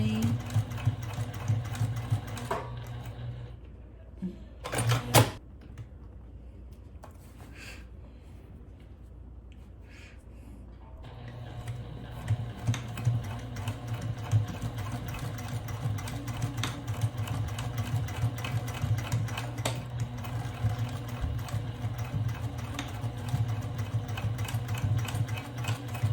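A sewing machine stitches the handles of a tote bag, running in a quick, close whirring hum in short bursts at first, pausing for several seconds, then stitching steadily and continuously for the rest of the span.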